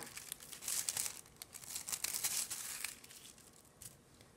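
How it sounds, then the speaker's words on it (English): Deli wrap paper crinkles in hand during a polymer clay craft session, a close, continuous dry rustle of soft crumpling with brief tearing-like crackles, no voices. "So I have a piece of deli wrap."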